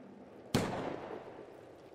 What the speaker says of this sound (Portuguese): Você ouviu isso? Um tiro veio do refeitório.